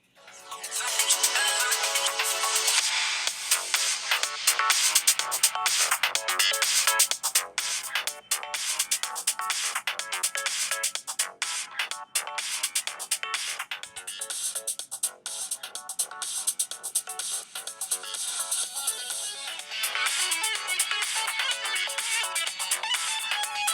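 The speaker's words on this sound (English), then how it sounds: "we'll play some music into it just to test the off-axis rejection" Music played from a speaker placed off to the side and behind a Maono AU-PM320S XLR streaming microphone, heard continuously throughout as bright, steady tonal playback with no talk over it.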